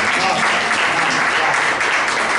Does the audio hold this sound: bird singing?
no